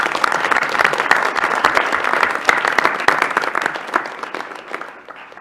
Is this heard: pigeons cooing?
no